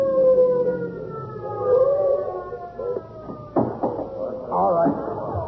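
A police car siren wailing at full volume on the way to an incident, a loud rising-and-falling tone that holds close by, with shouts and bustle breaking in toward the end.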